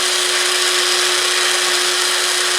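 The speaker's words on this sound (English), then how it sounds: "I'm going to go ahead and drill a hole in here" Power drill boring straight through a rod to make a hole, a steady high-pitched whine held loud and close without a break from start to finish.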